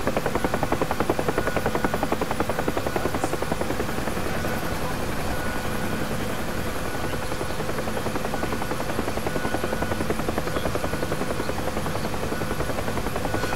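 Helicopter flying in the combat flight simulator DCS World, a loud continuous rotor thump and engine whine filling the whole stretch steadily, with faint talk underneath.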